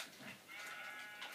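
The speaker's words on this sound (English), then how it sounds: "There's sheep down here!" A sheep in Minecraft bleats in a faint, wavering cry underground in a sewer area, a single short bleat with no talking over it.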